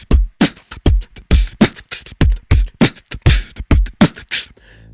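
Beatboxed kick and snare drum samples, a human voice mimicking drums, lock into a steady, punchy groove of alternating booming kicks and sharp hissy snares, loud and close for about five seconds.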